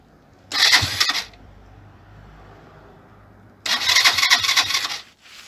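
Suzuki GN 125 motorcycle engine cranked over twice, each burst of starter churning lasting under a second then about two seconds, close and fairly loud, sputtering as it nearly catches but failing to fire, with a quiet pause between.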